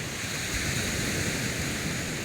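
Strong sea wind at night on a shore where crabs are being trapped roars as a steady broadband rush, loud and close, with no break and no voices.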